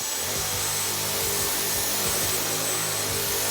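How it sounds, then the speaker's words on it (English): A vacuum cleaner runs over a bed during house cleaning, giving a steady high whine with rhythmic low rubbing strokes as the nozzle is pushed back and forth. "Vacuum the bed. This thing works so good."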